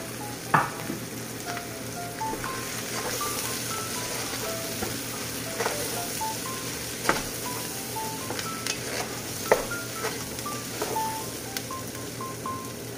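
Pork lungs for bupis sizzle steadily in a hot pan, a constant frying hiss with scattered spatula scrapes and clinks against the pan, close and alone.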